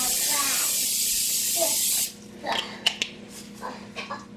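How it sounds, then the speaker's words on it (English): A can of coconut oil cooking spray hisses in a steady, close burst for about two seconds and then stops. Kitchen clatter and a voice follow. "I have some coconut oil spray"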